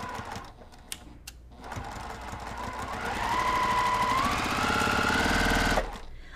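Sewing machine stitching a quilt block, its motor running in a steady, close mechanical whir that builds in speed and pitch over several seconds before stopping abruptly.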